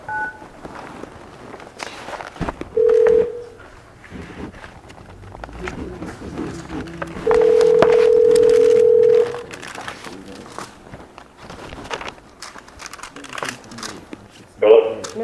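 A telephone dial tone sounds twice, once briefly and once for about two seconds, for a conference call at an appraisal review board tax hearing, with rustling, footsteps and room noise around it and a short tone at the end.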